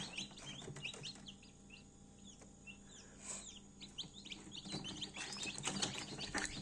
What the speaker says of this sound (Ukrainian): Першими вилупились курчата з менших яєць